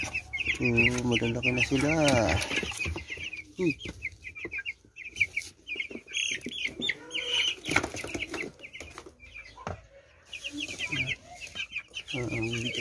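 Eight-day-old chicks moved into a larger cage chirp and peep constantly, with a loud bird call at the start and bursts of wing flapping, while a person talks briefly over them nearby.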